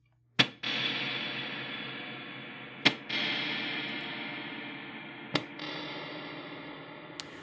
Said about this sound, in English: there will be a small delay before the reverb comes in